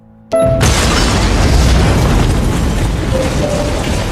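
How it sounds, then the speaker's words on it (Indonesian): A sudden loud blast as a car explodes in a basement after a brief quiet moment, then a sustained roaring rumble of debris and fire that fills the space and slowly fades. "langsung meledakkan sebuah mobil di basement"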